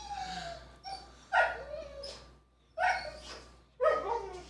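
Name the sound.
excited dog whimpering and barking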